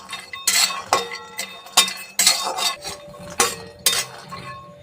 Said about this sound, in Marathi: 2 ते 3 मिनिटं छान असे शेंगदाणे भाजून घेऊ.